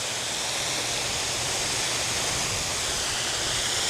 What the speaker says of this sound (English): awesome waterfall here.